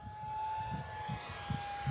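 An RC BAE Hawk 50mm ducted-fan jet with no rudder makes a full-throttle pass, giving a steady high-pitched whine with a near-constant tone and a rough low rumble pulsing underneath.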